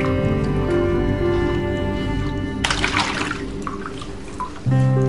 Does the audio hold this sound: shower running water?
yes